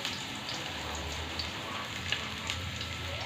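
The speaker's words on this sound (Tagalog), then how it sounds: "dito naman sa malaking kawali, dito natin igigisa yung ating karne" Meat sizzles steadily in a large wok for a Filipino menudo stew, a dense, continuous frying hiss with small crackles and no talking.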